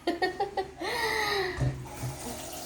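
Water pours into a cooking pot for shrimp sinigang, a steady splashing stream of about two seconds after some brief clatter, with a low thump partway through.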